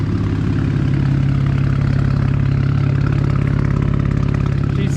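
A BMW 335 with the N54 engine and a new downpipe exhaust idles steadily up close, a constant deep rumble that holds at the same level throughout with no revving.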